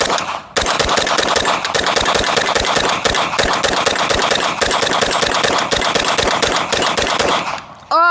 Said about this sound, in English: Speed up some shots and get nice and comfortable here.